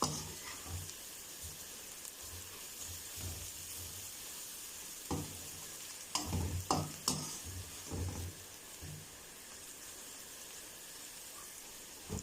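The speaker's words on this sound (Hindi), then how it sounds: "ये डालेंगे तो थोड़ी देर के लिए मसालों को भूनेंगे ताकि मिर्चों का कच्चापन जो है ख़त्म हो जाए।" Spices and chillies frying in oil while being stirred, a quiet steady sizzle and hiss broken by scattered scraping strokes, with a brief busier burst of stirring midway and no talk.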